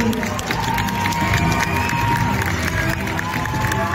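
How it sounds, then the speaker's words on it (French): A large audience in Paris cheering and applauding the cast of Stranger Things at a fan event, a loud, dense, unbroken roar of claps and shouts throughout. "On les applaudit."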